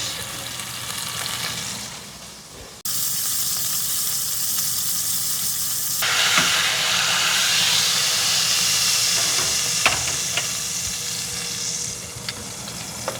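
A steak sears in a skillet on high heat. After a quieter start it breaks into a loud, steady sizzle and hiss, with occasional pops and spatters, close by and with no talking.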